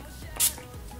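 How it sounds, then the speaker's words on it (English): Master Fix makeup setting spray mists onto a face in a single short, hissing spritz, close and brief against a quiet room. "So I'm going to use the Master Fix setting spray all over."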